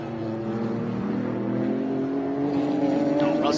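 GT race cars from Acura, Mercedes and Porsche thunder around Road America, a loud sustained engine drone with rising revs toward the end.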